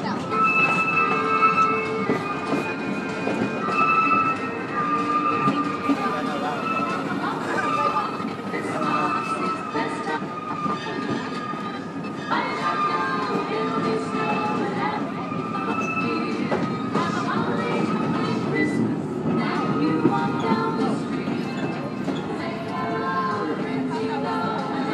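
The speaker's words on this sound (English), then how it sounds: "this is a Christmas sing-along train" A moving Christmas sing-along passenger train on the Frisco Silver Dollar Line rumbles steadily with rail noise and faint wheel squeals, while people talk over it throughout.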